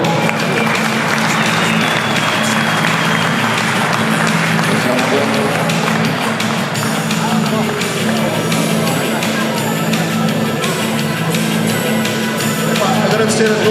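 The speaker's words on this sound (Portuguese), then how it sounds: "Uma salva de palmas para o Humberto." Sustained applause from an audience at a Bike Build awards ceremony at Setúbal Custom Weekend 2024, a steady dense wash of clapping held for the whole stretch, with a low hum underneath and voices mixed in.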